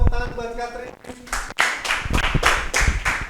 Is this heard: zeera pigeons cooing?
no